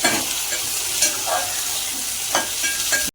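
Tomato, garlic, ginger and cashews frying into a masala in a kadhai: a constant sizzle with several distinct scraping stirs of a spoon against the pan, close and clear without talk.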